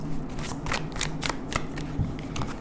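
Tarot cards shuffled by hand in a steady run of soft, papery riffles and slaps, close and moderately loud with no talking.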